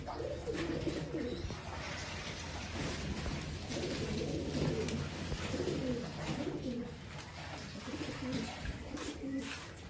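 Old line pigeons coo repeatedly in soft, rolling bursts, close by and steady, layered over one another with faint background rustle and no talking.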